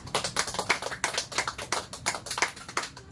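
Listeners at a Filipino sermon clap their hands in a brisk, irregular patter of many claps, fairly near and steady with no talk over it.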